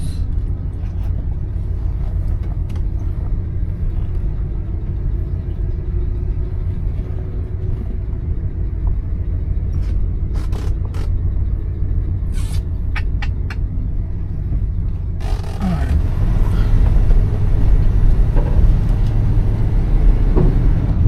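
A 1970 Oldsmobile Delta 88 driving at about 20 mph, heard from inside as a steady low engine and road rumble with occasional clicks and knocks, growing louder and rougher toward the end.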